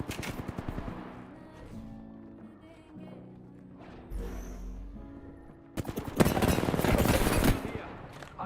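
Gunfire in a video game: rapid bursts of automatic shots at the start, a quieter stretch of game sounds, then a loud sustained volley of firing near the end.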